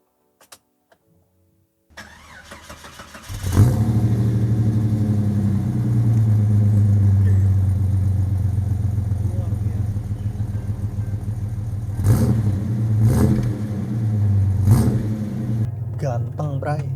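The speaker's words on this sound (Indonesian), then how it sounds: "Cuman sebelumnya kita denger dulu suara knalpotnya." A Jeep Cherokee XJ idles after starting, its exhaust giving a steady close low rumble, with a few revs swelling the note around the middle and near the end.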